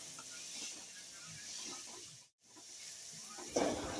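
Tomatoes, onions and curry leaves sautéing in a pan for mutton fry, a quiet continuous hiss and sizzle that briefly drops out, then rises again with a louder scrape of stirring at the end.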